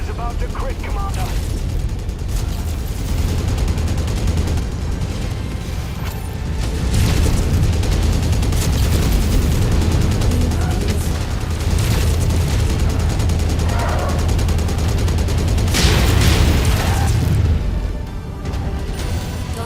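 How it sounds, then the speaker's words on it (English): Explosions and rapid gunfire from mech combat in the video game MechWarrior 5: Mercenaries, loud and continuous with heavy booms swelling midway, while a synthetic voice speaks over the battle. "Explosion imminent."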